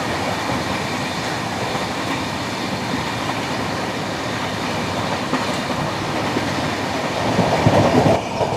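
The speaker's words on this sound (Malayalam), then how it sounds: "ഇവിടെ ഇപ്പോൾ പശ്ചിം എക്സ്പ്രസ് വരാറായിട്ടുണ്ട്" The Paschim Express pulls into Sonipat Junction with a continuous loud rumble of rolling rail cars and rhythmic wheel clatter. The sound swells slightly toward the end with a brief squeal.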